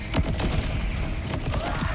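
Borderlands 4 weapon launching projectiles upward that scatter down as explosive shots, giving a rapid volley of thumps and bangs in an uneven, stuttering rhythm with no talk over it.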